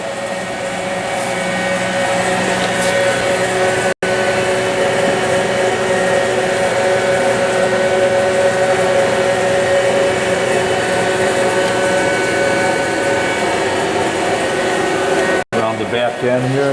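A Sunnen SV-1015-S1 precision vertical honing machine with servo rotary table runs with a loud, steady mechanical drone and whine, broken by two abrupt dropouts, with a voice talking over it.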